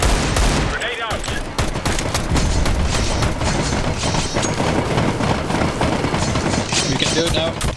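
Gunfire and a grenade blast in Counter-Strike: Global Offensive zombie escape, with dense rapid automatic shots rattling continuously and a heavy boom early on, loud and close, while voices talk over the fighting.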